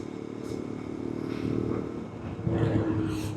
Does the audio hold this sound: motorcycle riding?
yes